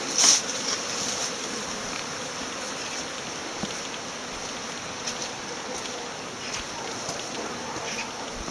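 Honeybees flying around hives on a February day, a steady near buzzing hum of many insects with a faint outdoor background and no talking.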